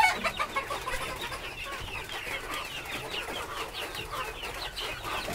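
Native desi chickens cluck on a small farm, with many overlapping repeated clucks and chatter from a flock close by, steady and moderately loud with no talk.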